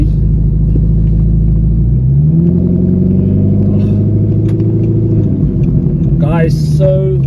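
A straight-piped Audi R8 drones loudly from inside the car while driving, its deep engine tone holding steady and then shifting pitch as it revs, with voices talking over the rumble.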